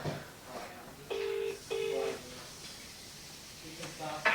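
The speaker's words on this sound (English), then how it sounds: "I'm ringing them, see if they pick up." A telephone dialing out on a call: a few short steady tones sound near and clearly in a row, separated by brief gaps, against a quiet room background.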